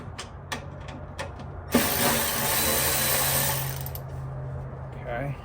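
Bolt being removed on a 1966 Chevrolet C10: a few light metallic ticks and taps, then a loud power tool whirs steadily for about two and a half seconds before winding down, close by.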